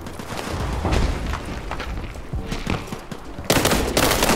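Rapid gunfire in the shooter World War 3, with close, dense bursts and scattered single cracks over steady battle noise, ending in a loud sustained volley.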